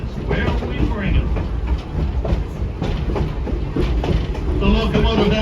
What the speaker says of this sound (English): The locomotive at the head of our train today is our 1897 Buffalo